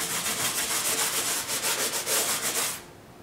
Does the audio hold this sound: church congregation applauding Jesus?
no